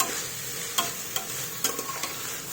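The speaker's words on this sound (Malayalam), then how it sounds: "ഇത് നന്നായിട്ടൊന്ന് ഇളക്കി കൊടുക്കണം." A spoon stirring rice in a cooking pan, a steady hot sizzle broken by several distinct scraping strokes at irregular intervals, close and fairly loud with no talking.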